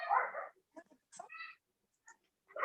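A small dog gives a few short, close whimpers and yips separated by brief silences.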